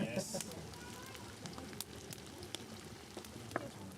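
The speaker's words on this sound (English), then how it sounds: "Oh, that aroma with the pork fat mixed with the green aroma of the cassava leaves. Oh, yeah. Oh, that sizzle." Pork fat sizzles in a pan with cassava leaves, making a faint, steady crackle scattered with small sharp pops.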